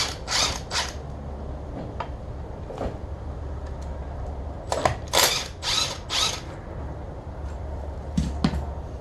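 Battery impact gun working T55 caliper bracket bolts on a crew cab dually Silverado wheel hub, giving several loud bursts of rattling hammering: a pair near the start, one brief hit, a longer cluster in the middle and a final short burst, with no talk.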